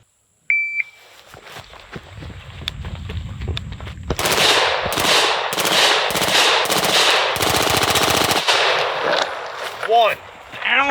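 An HK briefcase gun fires rapid automatic bursts at steel targets, loud cracking strings broken by short pauses, preceded by a short electronic beep and a few clicks, with rings from hit steel near the end.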